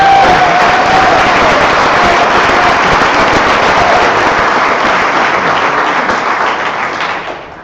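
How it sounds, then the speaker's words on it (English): A large audience at a college homecoming convocation bursts into loud, sustained applause, a dense wash of clapping with scattered cheers that holds steady for several seconds before tapering off at the end. "can we get a round of applause for everybody that's came?"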